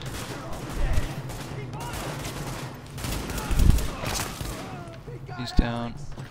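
Rapid gunfire bursts in The Division, a shooter video game, rattling under ongoing spoken talk, with a couple of heavier booms and a sharp shot near the end.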